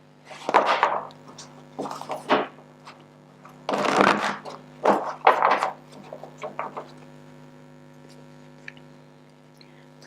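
Tarot cards being shuffled in bursts of riffling and rubbing, close and fairly loud, with pauses between, over a steady low electrical hum and no voices.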